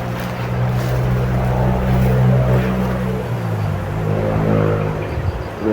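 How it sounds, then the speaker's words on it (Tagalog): Engines of passing motorcycles on a mountaintop road, a loud, continuous low rumble that swells and shifts in pitch as the bikes move by, with some wind noise. "may mga motor dumadaan"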